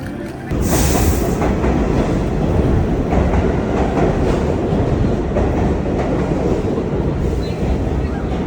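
A subway train rumbles loudly and continuously after starting abruptly, with rushing wheel noise and a hissing burst at the start.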